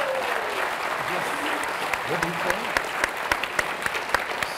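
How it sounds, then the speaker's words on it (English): Audience round of applause at a business event panel, steady clapping with distinct sharp claps close by as a voice speaks briefly over it. "Can we just give it another round of applause?"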